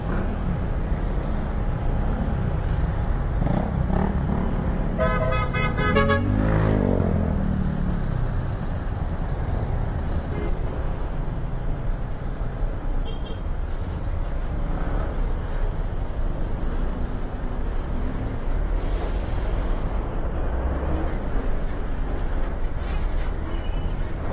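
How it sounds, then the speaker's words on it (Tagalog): Trailer trucks driving at a pier on Roxas Boulevard, a heavy continuous rumble of engines in slow, bottlenecked traffic, with a brief clattering rattle and occasional hiss over the drone. "Puro mga trailer truck."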